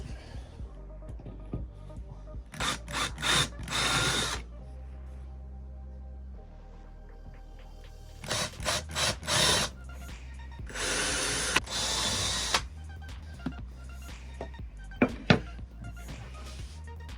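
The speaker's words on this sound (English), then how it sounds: "and then we'll go and pre-drill all the rest, and then we'll screw everything in." Bursts of a DeWalt power drill driving screws into wood, whirring in short runs, several separate passes with pauses between, close by, with clunks and handling noise in between.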